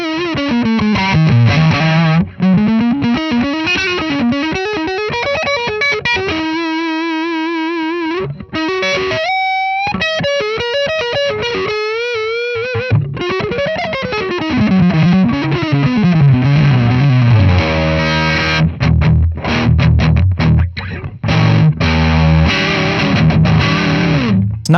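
Distorted electric guitar played through a Friedman IR-X cab simulator, a loud run of bent, sliding lead lines and sustained notes with fuzzy overdrive, continuous throughout with short pauses between phrases.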